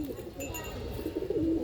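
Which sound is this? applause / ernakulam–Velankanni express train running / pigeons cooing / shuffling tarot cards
pigeons cooing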